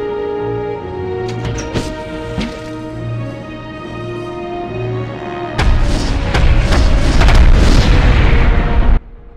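A thrown bomb detonates in Medal of Honor: Underground on PS1, a loud, close booming explosion that bursts in suddenly over earlier tonal game music and rumbles heavily for a few seconds before cutting off.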